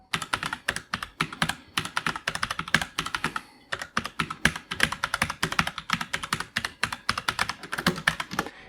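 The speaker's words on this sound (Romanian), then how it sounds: "în cazul în care vrei să auzi cum sună această tastatură" Someone types quickly and steadily on a mechanical gaming keyboard, producing a dense, close run of sharp, clacky keystrokes. There is one short pause in the middle and no talking.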